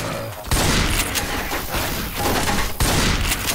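Dense, loud gunfire from the video game Left 4 Dead rattles almost without pause, with rapid overlapping shots and a few brief gaps between bursts.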